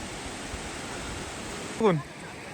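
Water rushes at Vasundhara waterfall in a steady broadband roar, with a short voiced sound cutting in near the end.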